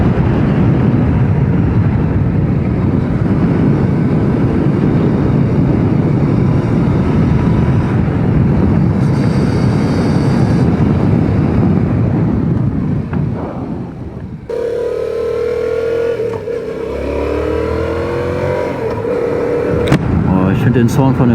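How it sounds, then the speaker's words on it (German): A motorcycle with a standard pod air filter being ridden: a loud, steady engine roar mixed with wind rush, then the engine note changes into revs that rise and fall in pitch. "Ich finde den Sound von der Maschine einfach so geil"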